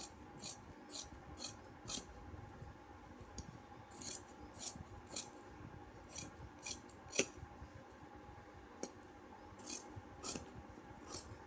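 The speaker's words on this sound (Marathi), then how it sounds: "आता आपल्याला कटिंग करताना आपण कटिंग कशी करतो पूर्ण बाहेरच्या बाजूने." Scissors cut through stacked blouse fabric, three layers at once for princess blouses, giving a run of crisp, irregular snips with soft rubbing and sliding of cloth between them in a quiet room.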